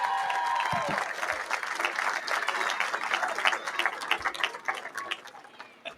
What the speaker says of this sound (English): Give it up for the Turning Point team.